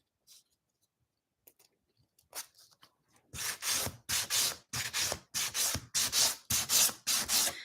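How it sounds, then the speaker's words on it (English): Sandpaper scrubs wooden nativity craft pieces in steady back-and-forth strokes, close and clear, about eight rhythmic rubs after a few quiet taps and handling sounds. "So we're going to take each section and just hit it with a little bit of sandpaper."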